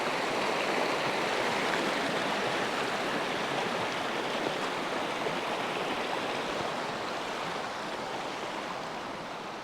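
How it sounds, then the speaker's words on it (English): Elbert Creek on a trail near Durango, Colorado rushes steadily past, a dense, even broadband roar of flowing water close by with no voices. "you do have to cross Elbert Creek"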